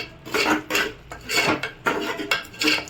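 A metal spoon scrapes and clatters against a pan while masala spices are stirred into green moong dal curry, a rhythmic series of about six scraping strokes, close and clear with no talking.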